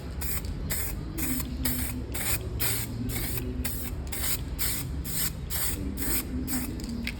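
An aerosol can sprays tint onto the lights of a Volkswagen Polo 6N in about seventeen short, even, rhythmic hissing bursts, close and steady, with no talking.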